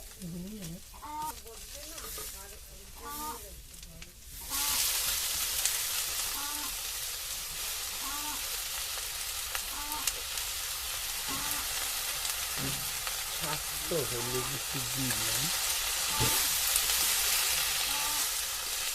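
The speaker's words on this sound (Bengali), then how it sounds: "এবার এই শাক মশলার সঙ্গে ধীরে ধীরে মেশাতে থাকুন নাড়াতে থাকতে হবে এ সময় যতক্ষণ এগুলো নেতিয়ে না যায় ততক্ষণ নাড়াতে থাকুন" Thankuni greens stirred with turmeric and coriander powder in a hot pan, a steady broadband frying sizzle starting after a few seconds and continuing throughout, with faint scraping of stirring and occasional bird-like chirps in the background.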